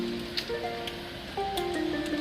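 Heavy hail and rain falling during a Sydney thunderstorm, a dense wash of impacts with scattered sharper hits, while faint tonal sounds drift in the background.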